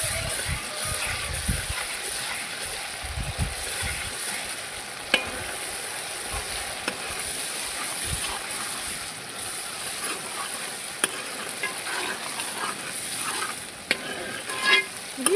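Ginger garlic paste frying with onions for a chicken curry, a continuous close sizzle with scraping stirs of a spoon against the pan, heavier and choppier at first before settling into a steady fry.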